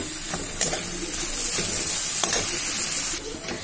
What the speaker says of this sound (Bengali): ধনে পাতা দিয়ে খুব ভালোভাবে নেড়ে নামিয়ে নিলে পরেই হয়ে যাবে